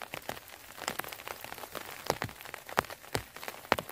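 Rain pattering in a cold forest during mushroom picking, irregular soft drops and sharper taps on leaves and surfaces, fairly close and quiet with no voices.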